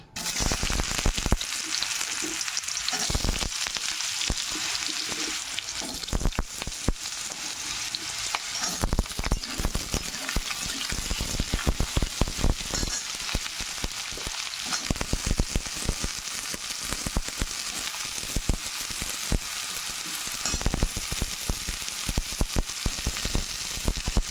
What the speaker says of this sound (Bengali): তেলের মধ্যে আগে আমি আলুগুলো ভাজা করে নেব।